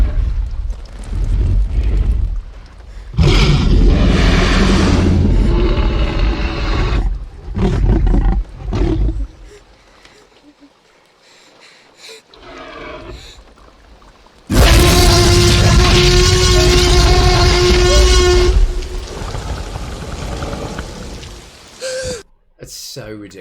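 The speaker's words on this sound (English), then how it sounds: "So we're going to listen to the T-Rex in this one." A designed T-Rex roar from a film comes as several loud, long, rasping roars split by quieter gaps, with a final harsh burst, and voices are heard in places.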